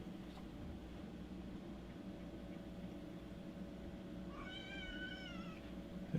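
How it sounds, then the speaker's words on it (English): A cat lets out a single faint meow late in the recording, over a steady low indoor hum with no talking. "Can you hear the cat?"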